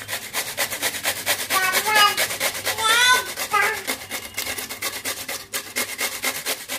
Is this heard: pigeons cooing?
no